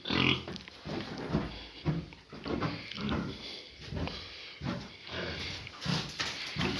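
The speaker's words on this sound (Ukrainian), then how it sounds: "Це в мене тут пару свиней." A couple of pigs in a village barn grunting and snuffling close by, a steady run of short rough grunts repeating about every half second, with no voices.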